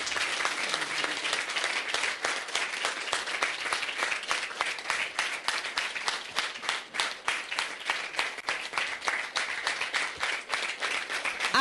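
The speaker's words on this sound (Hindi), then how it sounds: "जोरदार तालियां बजाओ" Loud, sustained applause from an audience at a devotional gathering, dense rapid clapping continuing steadily from start to finish with no talk over it.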